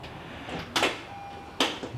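A 2019 Honda Odyssey sliding door closes in two sharp, close thumps about a second apart, with a faint motor whine between them.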